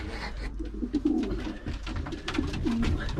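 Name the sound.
racing pigeon cooing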